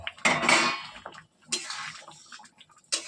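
A pot of mango chutney with mango pieces being stirred, giving short clattering scrapes of a spoon against the pot in three separate bursts with quiet gaps between them.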